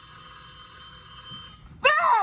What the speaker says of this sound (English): your phone is going to ring